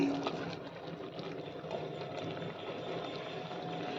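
Kummatti greens simmering in water in a clay pot, giving a steady bubbling, gurgling wash of boiling liquid that stays even and close with no talk over it.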